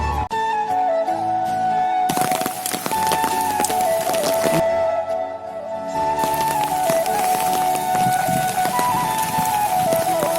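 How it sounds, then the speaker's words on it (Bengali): Steady, dense rain pours down without letup over a village, a constant hiss and patter filling the whole stretch, with no one speaking. "অনেক বৃষ্টি হইতেছে আজকে"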